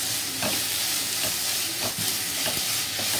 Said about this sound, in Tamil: இப்போ பூண்டு போட்டுக்கலாம். பூண்டு நல்லா வதங்கட்டும்.